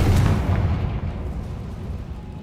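A Confringo fire spell goes off in the game Hogwarts Legacy: one loud, deep booming blast that rolls out and fades over a couple of seconds.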